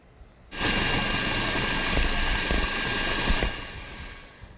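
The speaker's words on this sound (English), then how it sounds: "that's a Coast Guard air crew dropping relief to locals from that helicopter" A Coast Guard helicopter dropping relief supplies in Puerto Rico roars in abruptly, with loud, steady rotor and turbine noise that holds close and dominant for several seconds before easing slightly at the end.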